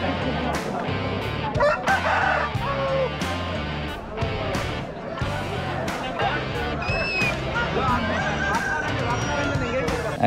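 Roosters crow repeatedly at a village cockfight venue during the Sankranthi festival, loud and close over a busy crowd babble, with clucking fowl and people talking throughout.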